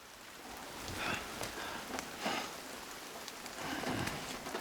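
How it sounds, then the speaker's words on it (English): Steady video-game rain patters across a surface, with gentle swells in intensity and no voices. "the rain has caught up with us"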